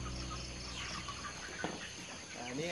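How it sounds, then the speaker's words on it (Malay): Commercial free-range village chickens about 55 days old, on a farm in Kedah, cluck faintly and sparsely over a low outdoor hum of insects. "Mari kita tengok ayam ni."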